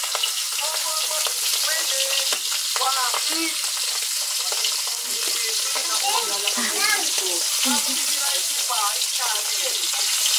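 Food fries loudly in a hot pan, oil crackling and spitting in a dense, continuous sizzle with sharp pops scattered throughout.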